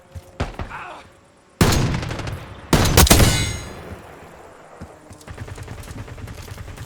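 Loud gunfire bursts from Call of Duty Black Ops 6, with sharp shots followed by two heavy volleys of automatic fire and a metallic clang, then a quieter rumbling tail of distant fire.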